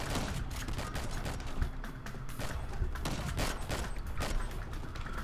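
Rapid gunfire fired from the hip in R.I.P.D. The Game, a dense continuous volley of shots with mechanical clatter that runs the whole stretch, loud and close with no speech.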